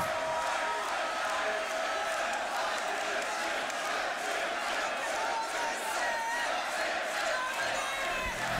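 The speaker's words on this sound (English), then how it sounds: "Oh, the crowd is going nuts." A crowd at a beatbox battle cheers and roars continuously, a dense, loud wall of screams and shouts with commentators talking over it.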